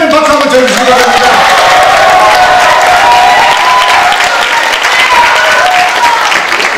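Applause from a large audience at a Bareunmirae Party convention for electing the party leader, a loud continuous wash of clapping with some cheering, a voice heard over it at the start.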